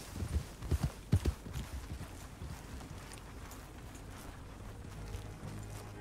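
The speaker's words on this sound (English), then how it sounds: "My horse ran away." Hooves clip-clop quickly at first, then fade as a horse gallops off in Red Dead Redemption 2, leaving a low rumbling background.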